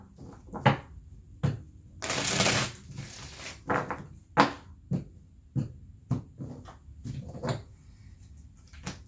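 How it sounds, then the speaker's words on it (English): Tarot cards are shuffled close by: a series of sharp taps and snaps, with one longer riffling burst in the early part, then more irregular card slaps. "Woo, I can shuffle today."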